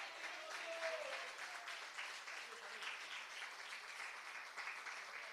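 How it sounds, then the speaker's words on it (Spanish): Church congregation at a worship service clapping in praise, a steady wash of many hands under a murmur of voices, sustained and fairly close. "Dele palmas de alabanza"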